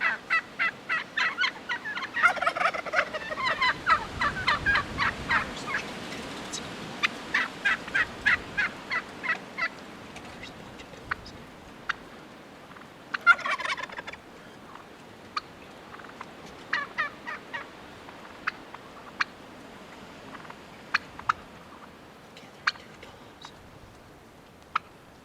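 Wild turkeys gobble in an open field during a hunt, a series of loud, rattling gobbles close by early on, then scattered sharper calls and clucks spaced out over the rest.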